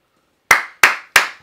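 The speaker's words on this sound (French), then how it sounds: "J'en applaudis." Three sharp hand claps ring out, evenly spaced about a third of a second apart, close and loud against silence.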